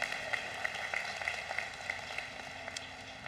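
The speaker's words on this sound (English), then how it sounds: "How about a round of applause for Chaplain Cessnak?" A university commencement crowd gives a round of applause for a chaplain, a dense steady patter of many hands clapping at moderate level that holds for the whole stretch.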